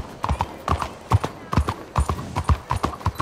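A horse's hooves clip-clop at a steady walking pace in Red Dead Redemption 2, crisp evenly spaced hoofbeats close by, with a faint snort or whinny underneath.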